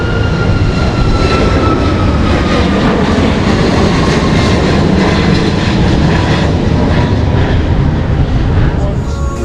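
Loud, continuous roar of an airplane engine passing overhead, a broad steady rumble that persists throughout with no pause.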